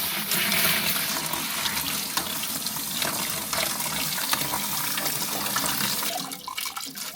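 Water gushes steadily from a tap at a homemade outdoor garden wash station built with a bucket, while a freshly picked cabbage is washed beneath it; a continuous, close, loud rush and splash with no talking.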